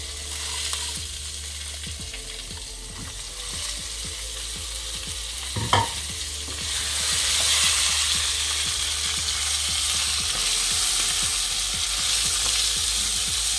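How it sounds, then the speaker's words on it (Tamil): Ridge gourd peel sautéing in a pan over low heat, a steady close sizzle with scraping stirs and a brief clink midway, the frying growing slightly brighter toward the end. "நல்லா சிம்மில் வச்சுட்டு நல்லா அதை வந்து லைட் ப்ரௌன் கலரில் இந்த தோல்லாம் சேஞ்ச் ஆகிற வரைக்கும் நம்ம நல்லா வதக்கணும்"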